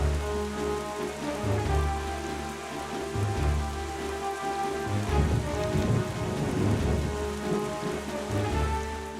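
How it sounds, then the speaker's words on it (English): Steady heavy rain with rolling thunder in the video game Zelda Wind Waker, the downpour dense and continuous while low rumbles swell and fade beneath it. "And also, the storm will continue on and on."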